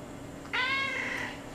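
A single cat meows once, close and clear, a drawn-out call lasting under a second against a quiet room background.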